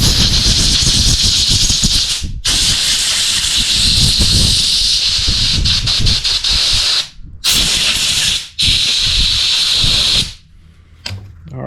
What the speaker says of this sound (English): blow her out the nozzle real quick